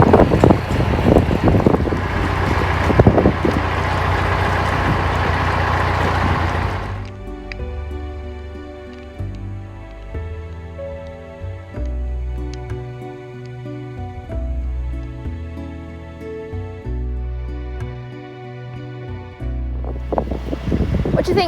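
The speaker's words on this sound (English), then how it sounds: "The wind has really picked up" Strong wind gusting on a canal towpath beside moored narrowboats, a loud roaring buffet against the microphone for several seconds, then easing to a lower rumble under music before rising again.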